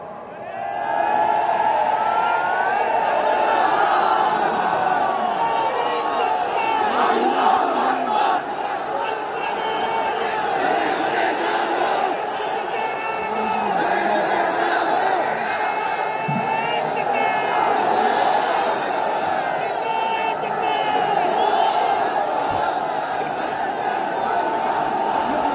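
Lecture audience chanting slogans together in unison, a loud sustained mass of voices with rhythmic swells that fills the hall throughout.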